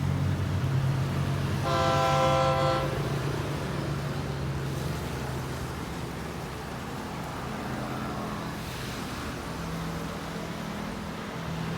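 A train horn toots briefly over the low, steady rumble of a diesel railcar's Cummins NTA 855 R1 350-horsepower engine, with clattering rail noise continuing after.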